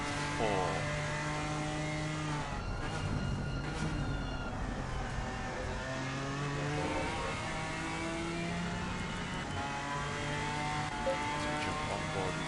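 BMW M4 race cars in a racing video game at Donington Park, several engines droning and shifting pitch together over a steady hum, held at a constant moderate level throughout.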